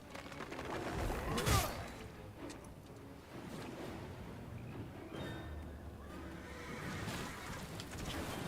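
A boss's horse in the video game Lords of the Fallen lets out one loud whinny near the start, followed by rumbling, whooshing ambient game sound.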